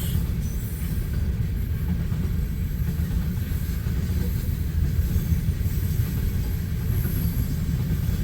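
A freight train with WEPX coal hoppers rolls past nearby near Hershey, Nebraska, with a continuous heavy rumble of wheels on rails, a faint hiss and occasional high squeal.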